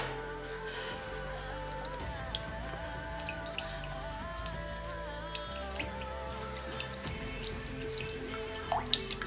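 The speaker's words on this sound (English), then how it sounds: "I just pierce the eyes of the coconut to get the water out. I'm going to pour it into the jar." Coconut water trickles and drips steadily into a jar, a soft continuous pouring with small splashes over a low background hum.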